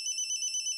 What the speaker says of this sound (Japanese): 携帯は切っておけと言っただろう。